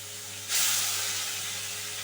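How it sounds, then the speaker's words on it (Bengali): Coconut paste for a banana-flower stir-fry hits the hot pan with a sudden loud hiss that settles into a steady sizzle, heard alone with no voices. "নারকেল বাটাটা আগে দিচ্ছি যাতে একটু ভাজা ভাজা হয়"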